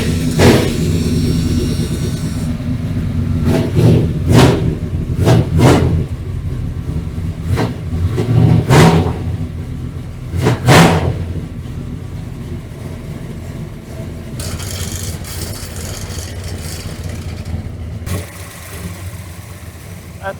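A worn-out truck engine is cranked several times in rhythmic bursts, then catches and runs in a rough idle with occasional revs, close by and loud.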